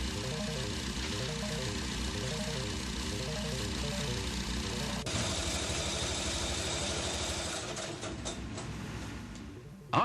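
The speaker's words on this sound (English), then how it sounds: "completed engine is run for 30 minutes in the test cell to check that it conforms to every specification" A Case IH 94 series tractor engine runs in a factory test cell with a steady mechanical hum and a repeating cyclic pattern, fairly quiet and shifting slightly in tone partway through, with no talking.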